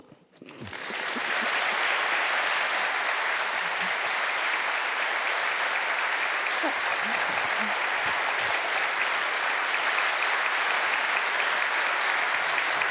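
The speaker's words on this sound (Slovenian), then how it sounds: "vas vabim, da mu zaploskate močno" An audience at a Slovenian business award ceremony breaks into applause that swells within a second and holds as a dense, steady wash of clapping for the rest of the span.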